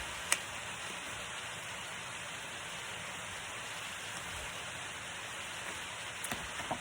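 Hail falls in a continuous, dense hiss of pellets hitting surfaces, steady and broadband, with a few sharper isolated clicks and no voice.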